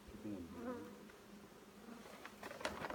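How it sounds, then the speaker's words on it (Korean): Honeybees buzz around an outdoor hive in early spring, a steady close hum of many insects with brief louder passes, faint overall and with no talking. "벌이 나와가지고"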